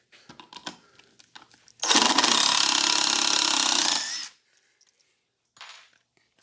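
DeWalt cordless drill running on a heavy nickel-cadmium 18 V battery while pulling screws out of wood, one loud, close whirring burst of about two and a half seconds between quieter handling clicks and taps.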